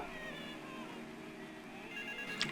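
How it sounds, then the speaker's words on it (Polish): A telephone booth rings in GTA III, a faint electronic ringing tone sounding behind game background noise, with no talking. "i tutaj dzwoni budka telefoniczna?"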